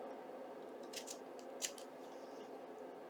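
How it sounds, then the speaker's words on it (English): Scissors snip through netting on a bag being decorated for a junk journal, giving two or three quick, faint cuts over a steady hiss of room noise. "And I'm going to have to trim this off, this net."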